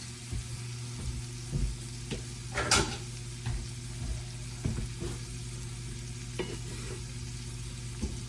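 Bacon pieces being stirred as they fry in a pan, a steady close sizzle broken by repeated scraping strokes of the utensil at an irregular rhythm, with no voices.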